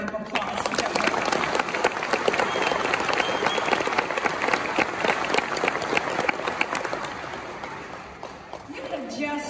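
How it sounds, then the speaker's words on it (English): A large commencement crowd applauds graduates in a steady, dense wash of clapping that holds throughout, with voices mixed into the roar. "Let's give them another round of applause."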